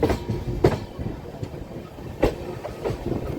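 A Ratnachal Express train with new LHB coaches rolls into Nidadavolu Junction, its wheels clicking over rail joints in irregular beats amid a low rumble, fairly close.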